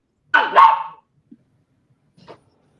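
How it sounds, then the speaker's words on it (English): A dog barks loudly and close twice in quick succession, followed after a pause by a couple of faint, short yips. "That's my dog acting crazy."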